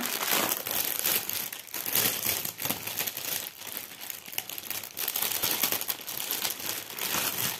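A cross-stitch kit package is torn open up close, with continuous loud crinkling and crumpling of plastic wrapping and bursts of rustling throughout, no talking.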